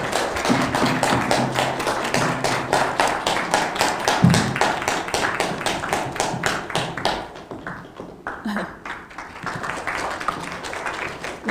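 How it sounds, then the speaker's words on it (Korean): An audience at a history lecture claps for the lecturer, with many distinct claps in a brisk, fairly even rhythm that thins out and fades after about seven seconds, leaving scattered taps and room noise. "큰 박수 부탁드립니다."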